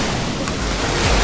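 Cold June ocean surf washes over a beach shore in a loud, continuous roar of breaking waves, heavy wind buffeting the microphone throughout.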